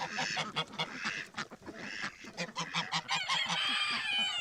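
A flock of ducks, including harlequin females, honks and quacks noisily and close by in a coop as a drake chases one of them, the calls overlapping in rapid bursts.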